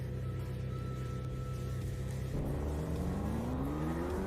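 A car engine in a Unity racing game, a steady droning hum that rises into a revving climb in pitch over the last couple of seconds, loud and continuous with no talking.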